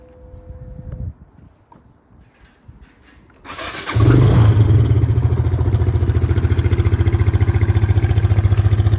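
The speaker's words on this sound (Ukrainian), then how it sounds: "жива, ціла, непогана БВС Ямаха. Зараз навіть заведу вам її." A Yamaha BWS 125 scooter, unprepped and up for sale, sits quietly amid light handling noises before its engine cranks and catches, settling into a loud, steady, pulsing idle close by.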